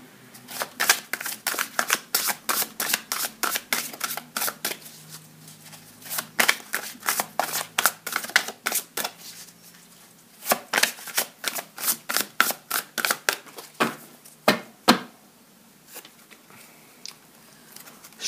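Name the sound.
shuffling and drawing tarot cards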